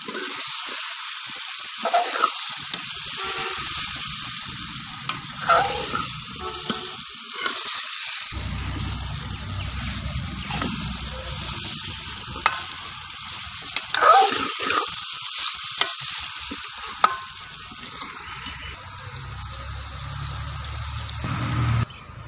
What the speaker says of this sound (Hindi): अब हम इसमें डालेंगे कटे हुए आलू